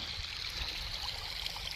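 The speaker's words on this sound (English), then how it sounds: "Some kind of alpine little creek." A small alpine creek in BC's Chilcotin country trickles and burbles as a steady, soft wash of running water, close and continuous with no pauses.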